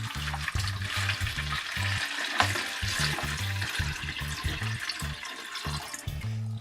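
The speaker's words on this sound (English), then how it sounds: "And I just poured an entire pitcher in there and it only filled it up halfway" Water from a full pitcher is poured into a fish bowl being set up as a decorated tank, giving a steady, continuous splashing rush that runs close and loud for the whole stretch, with a low rhythmic hum beneath.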